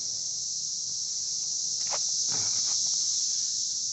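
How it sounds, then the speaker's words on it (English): A cicada buzzes in a continuous, high, steady drone right up close, with a few faint rustles and soft taps underneath. "Cicada."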